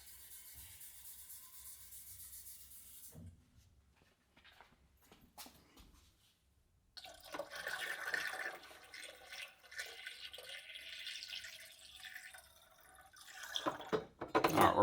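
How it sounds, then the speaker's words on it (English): Water is poured into the reservoir of a Gaggia Classic Pro espresso machine, a quiet start followed by a louder, continuous splashing trickle that swells toward the end, with no talking. "pour it in the little slot for water"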